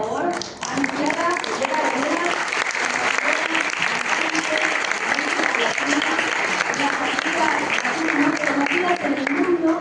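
Steady, loud applause from a talk-show audience welcoming a Mexican singer, dense clapping with crowd voices mixed in, sustained evenly for about ten seconds.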